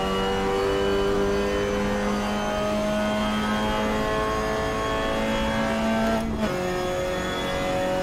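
A Mazda MX-5 laps Sepang circuit, its engine a steady loud drone heard from inside the car that holds one pitch, then drops sharply near the end as the driver lifts or shifts gear.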